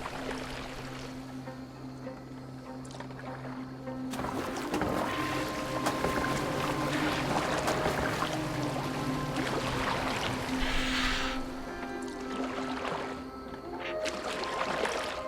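Boat moving across water in the game Assassin's Creed Valhalla, with a steady low hull rumble, splashing and washing water, and wind over a continuous bed of ambient game sound with no talk.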